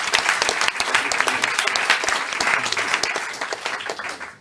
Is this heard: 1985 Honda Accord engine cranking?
no